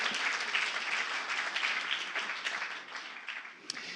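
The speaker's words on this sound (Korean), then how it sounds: "두 분에게 박수 한번 쳐드리세요" An audience in a church gathering in Frankfurt gives warm, sustained applause, a dense crowd of hands clapping steadily before tapering off near the end.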